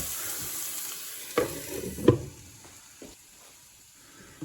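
Onions frying in a pan for a mince beef hotpot, a soft steady sizzle broken by a few sharp stirring knocks and scrapes, close and fairly quiet with no talking.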